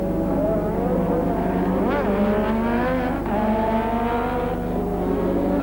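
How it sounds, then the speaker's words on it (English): Turbo Formula One cars of the 1984 European Grand Prix, including a yellow Renault, a McLaren and a Ferrari, race past with a loud, continuous high-revving engine wail and rising and falling pitch, over a steady crowd-and-track roar. "this battle for 4th between Warwick in the yellow Renault, Lauda in the McLaren, and Arnoux in the 2nd Ferrari"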